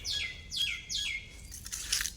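Sparrows come to drink water at a school: three quick, bright descending chirps in a row, then a few scratchy twitters, close by and fairly clear against a quiet background.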